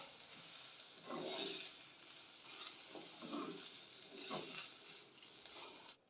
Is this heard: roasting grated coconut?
yes